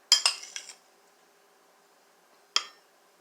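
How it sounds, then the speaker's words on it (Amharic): A spoon scoops corn flour into a bowl for a custard cake, giving a short cluster of light metallic clinks and then one more clink after a quiet pause. "የበቆሎ ዱቄቴን 2 ማንኪያ 3"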